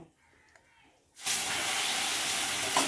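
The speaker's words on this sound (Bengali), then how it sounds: "ক্যারামেলটা রেডি হয়ে গেছে এবার অল্প অল্প করে দুধ এর মধ্যে দিয়ে দেব" Milk is added a little at a time to hot, freshly made sugar caramel for malai kulfi. After a near-silent second, a sudden loud, rushing steam hiss erupts and holds steadily to the end.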